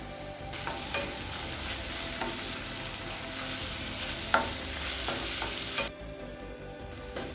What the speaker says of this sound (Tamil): இப்போ காய்கறி எல்லாத்தையும் நல்லா வதக்கியாச்சுங்க.